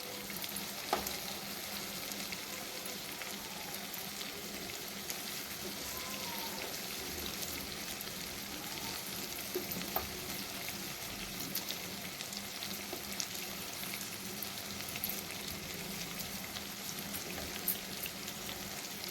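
Gongura mutton curry sizzles steadily in the pan as chili powder is stirred in, a soft, even, rain-like frying hiss lasting nearly twenty seconds at low volume with no talk.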